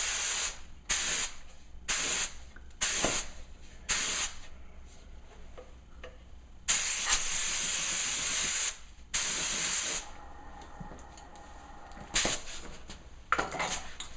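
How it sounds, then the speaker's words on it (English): Bursts of hissing spray from a spray gun applying clear coat to kitchen cabinets, close and loud, coming in short repeated passes and a few longer sustained blasts, with no talking. "I just come on it like this, same thing. I spray the edges."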